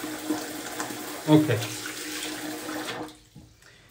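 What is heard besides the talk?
tap water running while wetting the face before shaving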